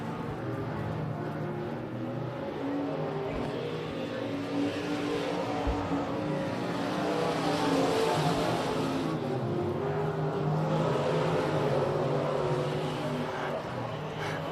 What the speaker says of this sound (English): Elliott Davis is stretching that lead out a little bit as Jason Gamage leads the speedway there